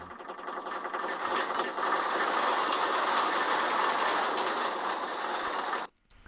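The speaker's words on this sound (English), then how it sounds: "these green squares, when they move fast, they will make like a chain lift sound." A rapid mechanical clacking roller coaster chain lift sound effect from OpenRCT2, steady and loud for several seconds, then cutting off abruptly.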